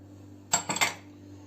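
Purslane salad ingredients with chili flakes and salt are stirred in a bowl, giving a quick cluster of three or four light clinks of a utensil against the dish amid quiet room hum.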